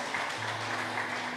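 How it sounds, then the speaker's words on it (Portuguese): A church congregation applauds during a worship service, a brief, steady wash of clapping filling the room at moderate volume with no voices standing out. "Pode aplaudir a Jesus"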